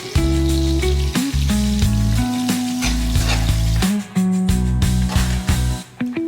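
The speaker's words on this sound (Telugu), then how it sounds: "ఎండుమిరపకాయ, జీలకర్ర, ఆవాలు, కొద్దిగా పచ్చిశనగపప్పు, మెంతులు అన్నీ కొద్దిగా లైట్గా వేయించుకొని అది కూడా ఒకసారి కలుపు" Dry chilies, cumin, mustard seeds, chana dal and fenugreek frying in a pan for tomato pickle, a loud continuous sizzle and crackle with occasional stirring scrapes, no talk.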